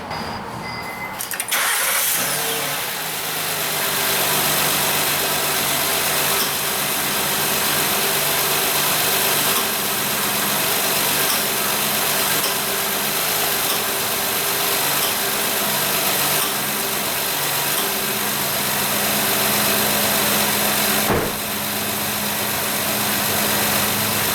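A Honda Pilot engine starts and then settles into a steady, continuous idle with a low vibrating hum, close by and with no one speaking.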